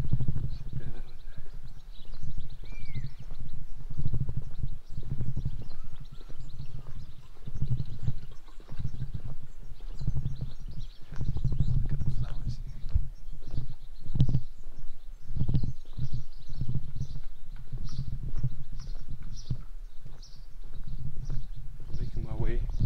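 Ponies near a path in an Austrian village by Altaussee, with irregular hoof clops and shuffles among outdoor ambience and faint birds, while a person talks throughout.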